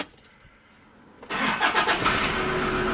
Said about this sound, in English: And now see if the engine will start